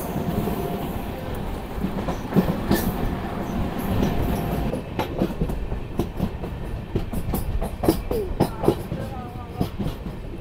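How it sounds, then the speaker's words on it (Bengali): Kanchankanya Express, the Alipurduar–Sealdah train, running on rails past tea estates, with a steady close rumble and rhythmic clickety-clack wheel clicks that grow sharper and more frequent toward the end. "এখন আমাদের ট্রেন এসে পৌঁছেছে তার ফার্স্ট হল্ট হেমাল্টনগঞ্জে"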